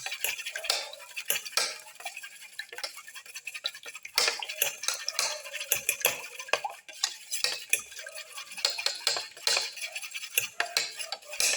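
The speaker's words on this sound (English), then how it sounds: "Mix the yellow and the white portion of the eggs together." Beaten eggs being mixed for a black pepper mint omelette, with a utensil clinking and scraping rapidly against a bowl in a steady, close, continuous rhythm, no voices.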